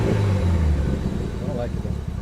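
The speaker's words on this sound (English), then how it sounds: "the car is definitely a lot louder, but it still has like a nice mellow sound" RB25 car engine fitted with a Tomei Arms MX8265 turbo, a loud yet mellow steady rumble running throughout, close by, with people talking over it.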